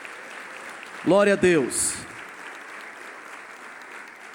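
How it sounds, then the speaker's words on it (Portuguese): A church congregation claps steadily in worship, a continuous wash of hands behind a voice briefly calling out in Portuguese. "Adore ao Senhor com as suas palmas aí."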